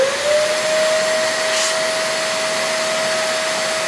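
A fabric cleaning machine switches on beside the rear bench seat of a Peugeot 205, giving a steady, loud vacuum-like whine with a sustained tone that holds unbroken from start to finish.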